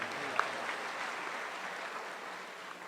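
Audience at a comedy show gives a faint, distant round of applause for a performer, a soft, even patter of clapping with one sharper clap early on.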